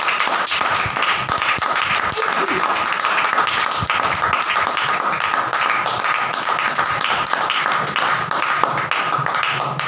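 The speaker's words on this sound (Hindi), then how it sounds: "जोरदार तालियां।" Loud applause rises from the audience at a preacher's religious gathering, sustained and even with a dense patter of clapping and the odd sharper clap.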